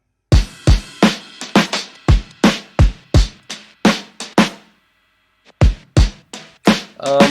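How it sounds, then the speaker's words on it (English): A punchy drum beat of sharp, evenly spaced hits, loud and dry, with a short silent gap before the pattern resumes. "So let's start with the drums. The drums sound like this."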